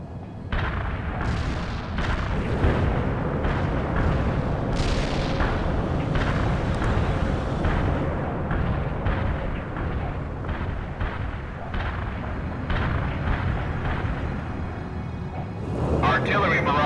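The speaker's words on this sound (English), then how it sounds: "Artillery barrage resulted in no enemy casualties." Artillery barrage in World in Conflict: a continuous rumble of heavy explosions and booming shell impacts, loud and sustained, with radio-style voice chatter over the top.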